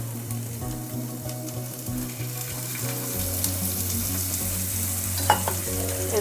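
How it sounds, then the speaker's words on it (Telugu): Chopped onion fries in oil in a pan for a makhana (lotus seed) masala curry, giving a steady, close sizzle. Faint stirring clinks sound over it, and there is no talking. "కొద్దిగా ఆనియన్ వేయించుదాం"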